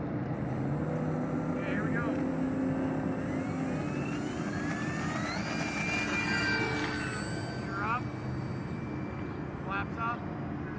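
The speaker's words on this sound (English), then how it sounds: "I'm going to get ready to take off." A radio-controlled F4U Corsair model airplane takes off outdoors, its steady engine whine and drone holding throughout with rising pitch sweeps, while people talk over it.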